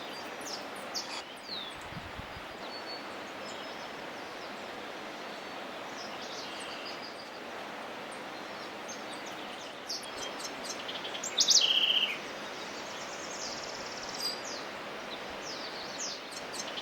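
Wild birds call and chirp in a Yungas transitional forest ecological reserve, scattered faint tweets over a steady rustling, insect-filled ambience, with one brighter, closer call standing out briefly.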